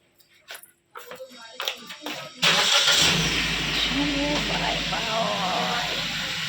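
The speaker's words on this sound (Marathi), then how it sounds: "गाडी निघते गाडी चलो गाडी निघालेली आहे" A car's engine starts after some clattering and door sounds, then settles into a steady hum as it moves off, close by, with people talking and a dog barking nearby.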